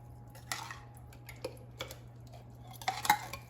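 Canned Rotel tomatoes go into a soup pot, with a few metallic clinks and scrapes of can and utensil against the pot, close and moderately loud over a low hum.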